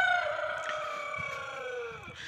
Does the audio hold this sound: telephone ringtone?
no